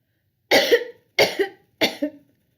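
Three sharp coughs, evenly spaced about a second apart, close and fairly loud with silence between them.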